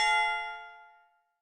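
A single bright bell ding, struck once and left to ring out with a clear metallic tone that slowly fades over about a second, alone.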